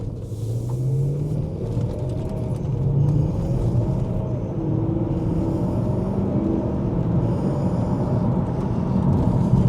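A BMW M3 engine rumbles steadily at speed, a deep throaty drone with slight rises in pitch as it revs, heard from inside the vehicle.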